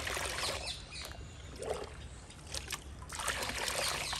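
Liquid fertilizer made from peels is poured into ten liters of water, giving a splashing, trickling gush that comes in bursts, near and moderately loud.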